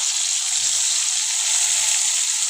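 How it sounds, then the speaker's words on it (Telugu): Chopped tomatoes sizzling in a frying pan with hot oil for an egg and drumstick curry, a steady loud hiss with faint low stirring bumps, no voices. "ఇందులో మనం ఇప్పుడు ముందుగా కట్ చేసుకున్న టమాటాలు వేసేసుకుందాం"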